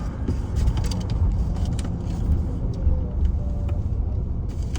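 Car driving down a tight street during evening rush-hour traffic, heard from inside as a steady low road rumble and engine drone, with faint rattles and clicks.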